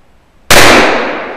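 A single sharp revolver gunshot cracks out close and loud after a moment of near silence, then its echo decays over about a second.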